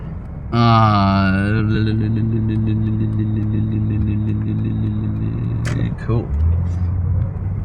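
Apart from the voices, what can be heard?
road traffic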